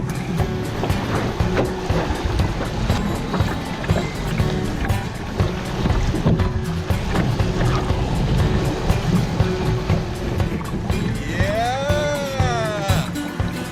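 Loud river rapids rush and churn under a canoe in the backcountry, a steady roar of turbulent water with a brief rising and falling tonal sound near the end.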